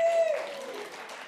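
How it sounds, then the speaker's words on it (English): A church congregation gives a brief burst of applause on Easter Sunday, clapping that fades out within a second after a short tone. "Thanks for the applause."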